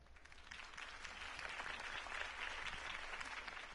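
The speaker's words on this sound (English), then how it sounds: "If only Mr. Wayne, my campaign's largest backer, could have heard that applause" Crowd applause after a campaign speech, steady dense clapping from many people at a moderate distance, sustained throughout without talk on top.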